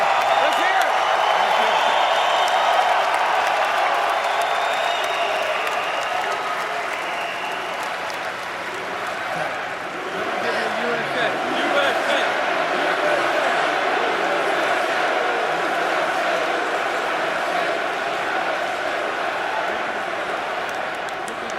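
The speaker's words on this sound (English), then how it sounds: "Let them give him a cheer, baby." A large crowd at the NFL Draft applauds and cheers continuously, a dense roar of clapping and whoops that holds steady throughout, with voices mixed in.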